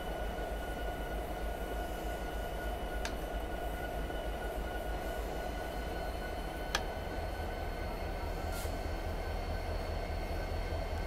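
Train in the Train Sim 2017 video game running at about 21 mph, a steady rumbling roll with a continuous whine and a few faint clicks, with no talk over it.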